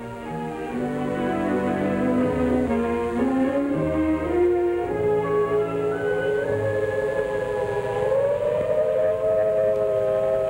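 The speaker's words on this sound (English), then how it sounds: "as I heard the siren and watched the youngsters going through an air raid drill" A loud civil defense air raid siren wails steadily during an air raid drill, its pitch slowly rising and sustained over ten seconds, with no voices.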